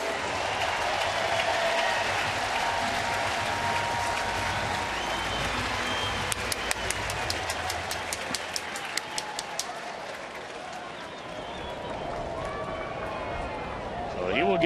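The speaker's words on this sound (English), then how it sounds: "I would expect a nice round of applause for his effort so far here today" Ballpark crowd at a Cardinals at Reds baseball game applauding the pitcher as he comes up to bat late in the game, a broad steady wash of clapping and crowd noise from a large stadium with an announcer talking over it.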